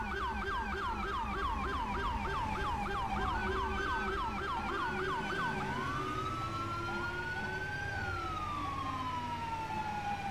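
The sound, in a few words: vehicle siren, video game sound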